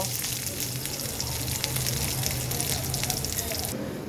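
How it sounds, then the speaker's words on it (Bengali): Cabbage and other vegetables fry together in a pan for a vegetarian dish, a steady, close hiss of sizzling oil that holds throughout. "সব কিছু একসাথে দুই এক মিনিট আমি একটু ভেজে নেব"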